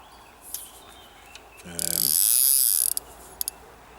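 A centre pin fishing reel loaded with 7 lb Drennan double strength line spins in a fast, steady whirring burst of about a second, close and loud, set against quiet outdoor lakeside background with faint clicks before and after.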